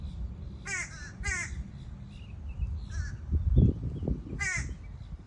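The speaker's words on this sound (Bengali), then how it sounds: "কাক ডাকছে, কা কা করে।" Crows caw outdoors near water, giving a few sharp, separate calls spread out, with low rustling and thumping noises underneath.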